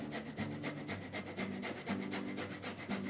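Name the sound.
grating fresh ginger with a microplane grater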